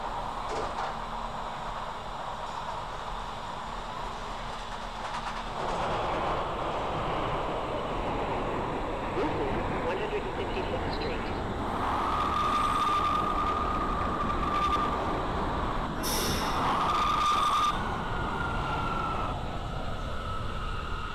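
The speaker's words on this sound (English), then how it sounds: "This is a Brooklyn-bound C local train." An R179 New York City subway train on the C line in the OpenBVE simulator rumbles along steadily with a continuous mechanical hum, joined partway through by a rising whine and a few brief high electronic tones.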